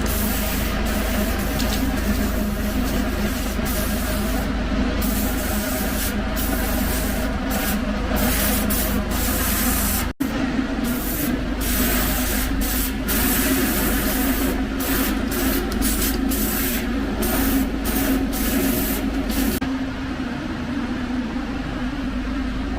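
Spray gun applying epoxy primer to a Volk TE37 wheel, a steady close hiss running continuously with brief pulses and interruptions as the trigger is worked, no talking.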